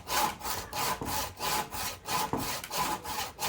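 A hand saw cuts a wood joint, making multiple cuts before chiseling, with rhythmic back-and-forth rasping strokes of even pace, close and loud, about nine strokes with no talking.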